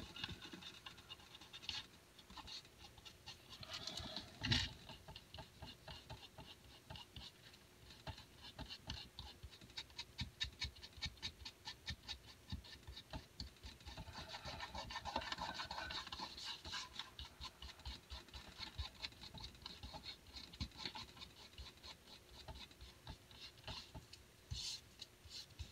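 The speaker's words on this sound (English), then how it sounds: "let's get our excess glue rubbed off. I love how Fabri-Tac glue just rubs right off." Fingers rubbing excess Fabri-Tac glue off a hardback book being made into a junk journal, giving a quiet, steady scratchy friction that carries on with small pauses throughout.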